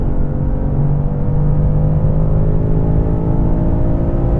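A BMW M5 accelerates hard through a quarter-mile run, heard as a loud, continuous low engine drone and whir close up, with no talk over it.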